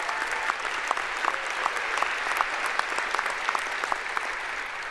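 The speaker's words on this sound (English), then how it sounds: "Let's have another round of applause for all of our Founders Award winners." A large audience at a university convocation applauds the Founders Award winners with steady, dense clapping that carries on without a break.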